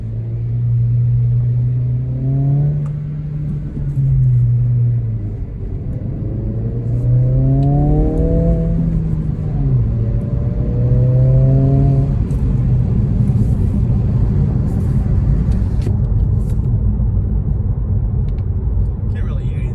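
A 2022 Honda Civic Si engine with the resonators deleted revs up several times in first gear, rising in pitch with each push before dropping back, with a steady rumble and a voice speaking over it.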